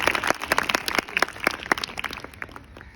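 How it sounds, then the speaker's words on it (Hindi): Light, fairly quiet clapping from a small audience at a school event welcomes a Class 12 student performer; the individual claps stay distinct rather than merging into a roar. "जोरदार स्वागत कीजिए तालियों से प्रीति का।"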